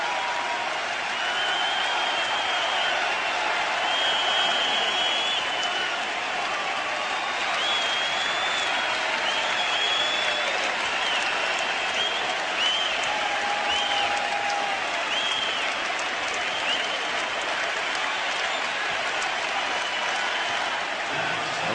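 A packed Philadelphia basketball arena gives Michael Jordan a sustained standing ovation, steady dense applause and crowd roar holding at full strength throughout with no break.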